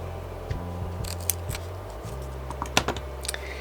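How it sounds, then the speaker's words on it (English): Scissors snip through a length of black duct tape, a few sharp cuts and crinkles close by with no talking. "So I'm going to cut out a piece that's a little longer than my width"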